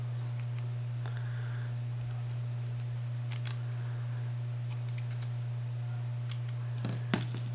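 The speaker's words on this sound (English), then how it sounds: "So we're going to take our scissors," Scissors snip cotton wick for a single-coil Kanger Subtank RBA build, a few short, sharp clicks in quiet surroundings over a steady electrical hum.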